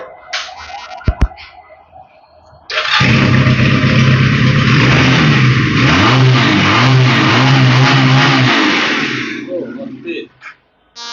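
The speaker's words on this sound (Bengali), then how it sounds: "এই বাইকের একটু সাউন্ড শোনাই, আপনার ভালো লাগবে।" Motorbike engine revving loudly and steadily near at hand, with a long sustained roar and rising and falling throttle swells, after a short stretch of quieter talk and handling noise.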